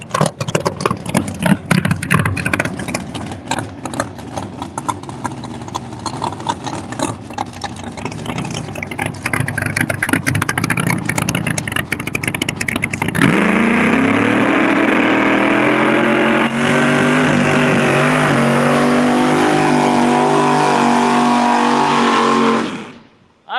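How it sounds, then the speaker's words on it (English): A race car at Bradenton Motorsports Park scrubs in a brand-new set of Hoosier racing tires: a loud, close engine runs rough and choppy, then climbs into a steady, sustained high-revving roar before cutting off abruptly. "Once again, Tricky Ricky scrubbing in some tires. Brand new set of Hoosier Racing tires on there."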